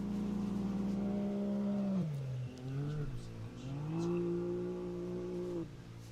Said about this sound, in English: Sounds like we do have one more car yet to go.